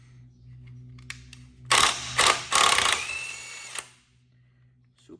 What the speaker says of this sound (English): Let's get our socket on here.